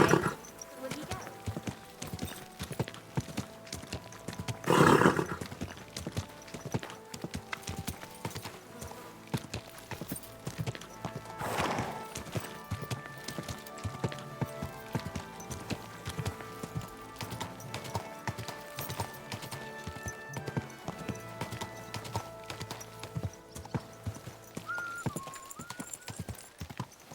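Steady clip-clop of horse hooves at a walking pace in the game Kingdom Come: Deliverance II, close and continuous, with occasional louder thumps and a brief whinny, over background game music.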